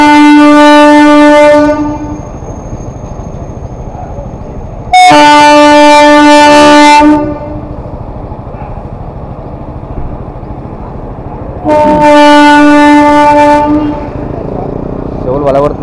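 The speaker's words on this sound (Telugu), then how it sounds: "చెవులు వలగొడుతుంది అబ్బా ఏ ట్రైన్లో" Train horn blasting loudly in three long, tonal bursts at Kacheguda railway station in Hyderabad, with the rumble of the passing train running steadily between blasts.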